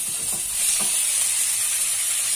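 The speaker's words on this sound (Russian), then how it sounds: "Значит, мы его посолим, поперчим и обжарим." Beef sizzles as it fries in a heated pan, a steady bright hiss with soft crackles and a brief stir near the start, close and continuous without talk.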